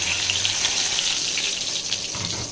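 Cumin seeds, dry red chillies and whole garam masala sizzle and crackle in hot oil in a pan, a loud, close, steady hiss running throughout with no talking over it.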